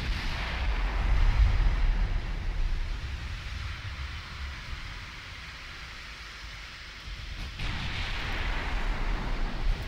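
Naval battle in Ultimate Admiral Dreadnoughts: a low heavy rumble of distant 16-inch gunfire rolls on steadily, with a deep thud near the start and a sustained roar under the sea noise.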